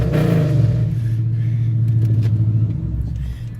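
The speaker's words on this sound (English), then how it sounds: "I can give y'all a few revs" A Dodge Challenger's engine revs up once and holds a deep, loud throaty roar, then drops back to a rumbling idle, heard close with no talk.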